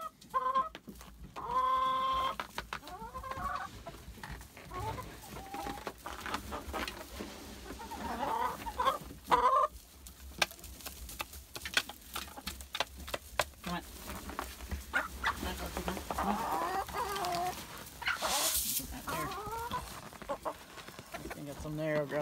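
Homestead chickens cluck and squawk close by in a barnyard over some twenty seconds, with a rising cackle partway through, a few sharp calls, and scattered handling noises mixed in.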